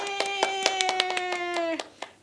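Children at a Sunday school class for playgroup through second grade clap their hands in a quick run of separate claps under a sustained tonal sound that ends abruptly, followed by a final clap.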